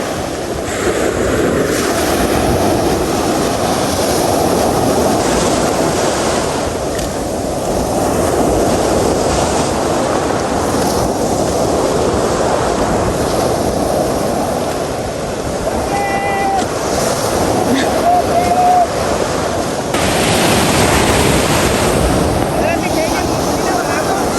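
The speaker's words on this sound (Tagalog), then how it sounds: "Malalaki po ang alon ngayon." Large ocean waves roar continuously at a seashore with strong wind buffeting the microphone, a loud dense wash that never lets up, with faint voices now and then underneath.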